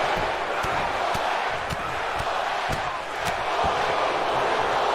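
A virtual arena crowd in a WWE 2K22 wrestling match roars as a steady wash of cheering, with sharp slams and thuds breaking through at irregular intervals.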